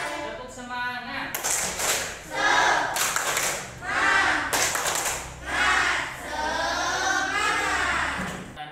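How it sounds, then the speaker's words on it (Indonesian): A class of children performs a rhythmic group spirit clap, with bursts of synchronized clapping and loud chanted voices rising and falling in time. "Tepuk semangat."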